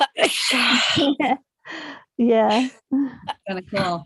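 A single loud, breathy sneeze bursts out at the start, close to the microphone, followed by people talking in a quiet room.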